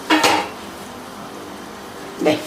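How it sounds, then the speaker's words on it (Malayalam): A metal lid set over a pan of okra and carrot cooking down, giving two brief clinks at the start and end with a soft simmering hiss between. "അടപ്പ് കൊണ്ടങ്ങ് മൂടി വയ്ക്കാം"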